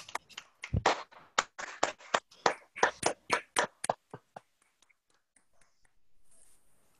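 Online debate participants clap over unmuted microphones, producing a run of separate, uneven sharp claps that thin out and fade to sparse taps and then quiet.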